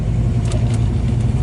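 Ford Mustangs in a record-attempt parade loop around Broadway at the Beach in Myrtle Beach, South Carolina, a loud continuous rumble of nearby engines idling and revving.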